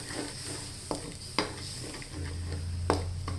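Red Thai curry paste for a pork panang curry, stirred and simmered with coconut milk in a pan, giving soft sizzling with a few scraping stirs and utensil knocks; no talking.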